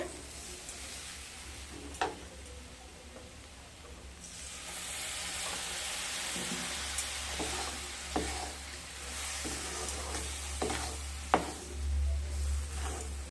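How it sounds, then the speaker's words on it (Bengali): Semolina (sooji) is stirred in a hot pan with hot water added bit by bit, giving a steady soft sizzle and hiss with scattered scraping taps of the spoon against the pan, with no voices. "অল্প অল্প জল দিয়ে নেড়ে নেড়ে কিন্তু সুজিটাকে বানাতে হবে।"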